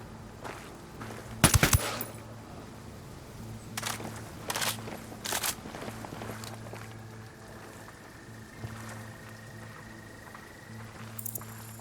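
A gun turret firing in the shooter Ghost Recon Wildlands, sharp short bursts of automatic fire spaced a few seconds apart, the first loudest, over quiet ambient background.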